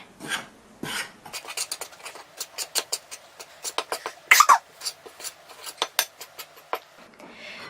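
A spoon mixing pancake batter in a bowl, a run of quick close scraping and clinking strokes in an uneven rhythm, with one brief louder clatter partway through.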